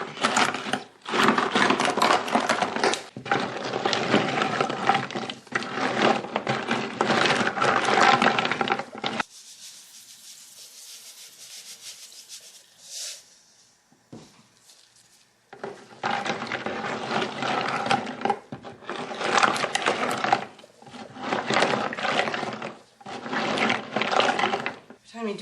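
Lye being stirred into a melting soap mixture, giving a steady, close scraping and swishing that runs in long stretches, broken by a quieter gap in the middle where faint sounds continue.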